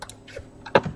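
Quick, light keystrokes tap on a computer keyboard, a short close burst of a few clicks in a quiet room.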